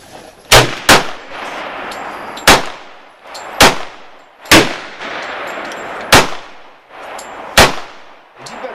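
Rifle shots from a Norinco SKS, about eight loud sharp reports at a slow steady pace, each with a ringing tail, close by with no talk between shots.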